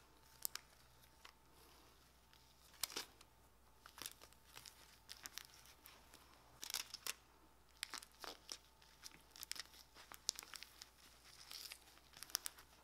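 Tape is pulled taut and torn from the roll while securing a design for a Cricut hat press, heard as faint, scattered crinkly rips and sharp tearing bursts over a quiet room, with no talking.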